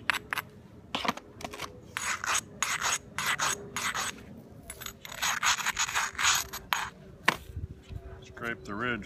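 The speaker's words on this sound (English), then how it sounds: "Scrape the ridge a little bit." Repeated rasping scrapes of a tool along the ridge of an obsidian core during direct-percussion flintknapping, sharp irregular strokes close to the mic with brief pauses and a faint clink.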